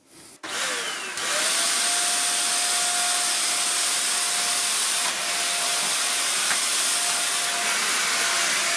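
A Silvercrest SHZK 600 A2 600 W corded vacuum cleaner starts up and spools to a steady, loud whining roar, with a brief change in suction pitch partway through.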